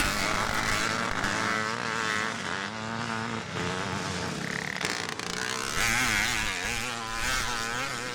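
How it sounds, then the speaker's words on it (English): A classic Yamaha IT dirt bike racing past at a classic motocross event in Lockerbie, Scotland, its engine a loud, continuous buzzing roar with shifting pitch as it passes, no talk. "Just looking at Graham Smith going through there on his IT Yamaha bike."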